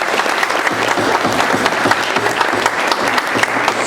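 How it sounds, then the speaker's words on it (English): Audience applause at an annual talent competition, steady loud clapping from a crowd throughout, with no talk over it. "a big round of applause for Anu."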